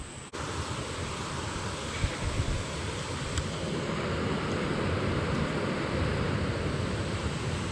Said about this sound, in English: You hear that water tumbling down from there?